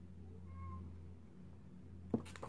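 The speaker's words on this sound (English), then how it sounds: "I have my cat crying." A cat meowing from behind a door while trying to get into a room: a faint, drawn-out cry heard over a low room hum, followed by a brief louder clatter near the end.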